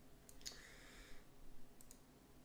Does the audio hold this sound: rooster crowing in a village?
no